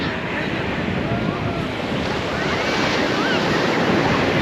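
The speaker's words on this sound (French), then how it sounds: "Donc nous voici sur la plage." Ocean waves and strong wind roll over the beach at Nosy Kely near Morondava, Madagascar, a loud, continuous roar of surf mixed with buffeting wind noise on the microphone.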